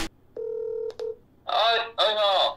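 Telephone keypad dialing, a few clear electronic beep tones in quick succession, followed by a voice on the line.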